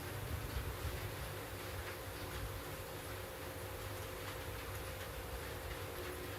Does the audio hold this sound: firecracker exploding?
no